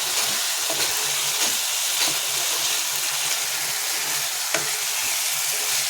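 Kalia curry fries loudly in a pan under continuous stirring, a dense close hiss of sizzling with soft periodic scrapes of the spatula and no voices.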